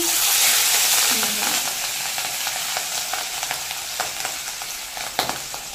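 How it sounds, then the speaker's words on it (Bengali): Loud crackling sizzle of hilsa fish frying in hot oil, with scattered pops and clinks from a spatula, steady and close. "মাছগুলোকে ভালো করে ভেজে নেব"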